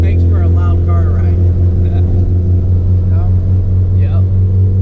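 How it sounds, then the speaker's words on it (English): Inside a boosted Honda CRX with solid engine mounts and the exhaust running right under the floor, a loud, steady low drone and hum fills the cabin while people talk over it. "Between the solid mounts and the exhaust right where our feet is, makes for a loud car ride."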